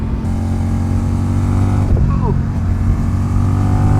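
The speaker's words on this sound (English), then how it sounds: "He's working on rev matching really, really hard, and so that bike is getting upset a little bit" Motorcycle engine on a race track, the rider working hard at rev matching on downshifts under braking so the bike gets unsettled; a steady close engine drone with brief blips of rising revs, talk over it.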